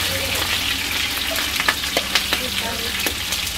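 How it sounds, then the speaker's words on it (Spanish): Chicken pieces frying in a pan for pollo encebollado, a steady close sizzle with scattered crackles and pops and the occasional scrape of stirring. "ya está friéndose el pollito."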